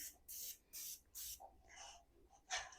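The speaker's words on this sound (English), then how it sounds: "I'm just going to spray the pan." Three quick hissing bursts of cooking spray into a cheesecake pan, evenly spaced, followed by a few softer sputters and one last short spray.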